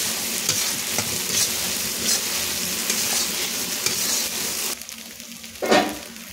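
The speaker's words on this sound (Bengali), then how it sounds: "এবার ভালো করে এটা তেলের সাথে কষিয়ে নেব আমি" Poppy seed paste fries in oil while being stirred, a close, continuous sizzle with rhythmic scraping strokes, then the sizzle drops away briefly before one loud final scrape.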